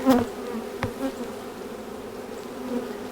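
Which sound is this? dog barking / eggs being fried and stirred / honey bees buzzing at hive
honey bees buzzing at hive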